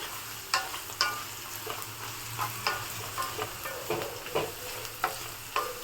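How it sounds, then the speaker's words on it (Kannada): Onions fry in a pan for puliogre gojju, a steady sizzle broken by regular scraping taps of a stirring spoon, close and clear with no talking. "ನೋಡಿ ಈಗ ಆನಿಯನ್ ಚೆನ್ನಾಗಿ ಫ್ರೈ ಆಗಿದೆ ಸ್ವಲ್ಪ ಫ್ರೈ ಮಾಡ್ಕೊಳ್ಳಿ"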